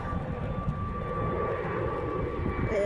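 An airplane passes overhead with a steady, moderately loud droning roar that holds evenly throughout.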